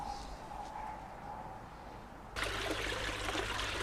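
Water trickles steadily in a koi pond outdoors, a soft continuous stream that turns louder and broader partway through, as if the flow or the listening position shifts closer.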